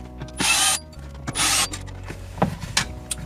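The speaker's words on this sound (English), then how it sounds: "That'll reveal the 4 more screws that we need to undo to get behind the display." A power driver whirs in two short bursts while undoing screws behind the display of a 2016 Land Rover Range Rover Sport, followed by light clicks and rattles of tools and parts nearby.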